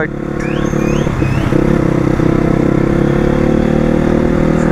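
A Honda Crossfire motorcycle being ridden, its engine droning steadily and loudly up close with a constant mid-pitched hum and some clatter, nearly alone without talk.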